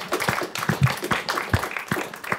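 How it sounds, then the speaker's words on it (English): Audience applause for a jazz ensemble of young women, a scattered patter of claps at moderate volume that stays steady throughout with no voices over it. "Let's give them a big round of applause"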